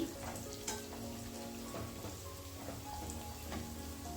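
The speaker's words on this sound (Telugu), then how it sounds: "ఇవి కూడా లైట్ గోల్డెన్ బ్రౌన్ కలర్ వచ్చేంత వరకు లో ఫ్లేమ్ మీద వేయించుకోవాలి" Green chillies and onions frying on a low flame, a soft continuous crackling sizzle, faint and even throughout.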